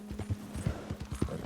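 A horse's hooves clip-clop in a quick, even trotting rhythm in a video game, with about a dozen crisp, close hoofbeats over a low steady hum and no voices.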